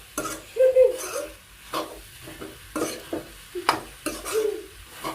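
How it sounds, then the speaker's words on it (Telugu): Ivy gourd curry fries in a pan and gets stirred, with a spoon scraping the pan in short, irregular strokes and a soft sizzle underneath, while someone talks over it. "నేనైతే దొండకాయ 1/2 కిలో పైన తీసుకున్నానండి. ఒక 5 మినిట్స్ వేగనిద్దాము."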